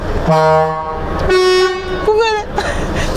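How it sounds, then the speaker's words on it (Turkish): A truck's original factory horn sounds loudly in several blasts of shifting pitch, the last one wavering, all close and strong. "Bu kendi orijinal korna."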